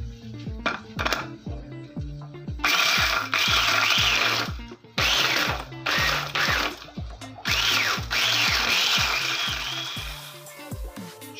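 An electric blender whirs in loud bursts while it whips up a seasoning mixture, its motor surging on and off over a steady rhythmic mechanical chatter, close and dominant throughout.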